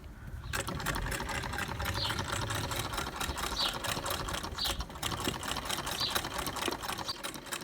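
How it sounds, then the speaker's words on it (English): A sewing machine stitches a small-stitch seam on a fabric bag, a steady close rapid mechanical whirr with faint rhythmic ticking, running continuously without talk. "So we're just going to go down the seam. Quite a small stitch."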